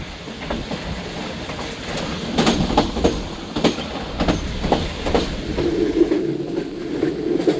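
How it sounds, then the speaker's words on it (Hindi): The Musapak Express rolls at speed toward Chichawatni station, heard from aboard as a steady rumble with rhythmic clickety-clack of wheels over rail joints and occasional rattles. "ट्रेन अपने मुकर्रर करदा रफ्तार के साथ चीचा वतनी रेलवे स्टेशन अप्रोच कर रही है"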